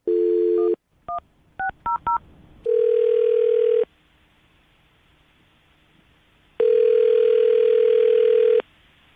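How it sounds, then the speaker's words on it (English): A phone line gives a steady dial tone, then a quick run of keypad touch-tone beeps, followed by two long ringing tones with silence between them as a call is placed for a radio show. "I'm going to call her right now, get her on the phone"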